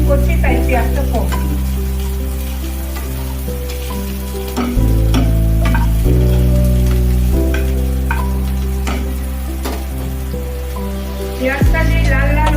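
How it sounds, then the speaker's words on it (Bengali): Onions fry in a pan as the base for a Bengali dahi katla fish curry, a steady close sizzle running under loud, sustained background music, with no one talking. "পেঁয়াজটা আমি ভাজতে লাগলাম"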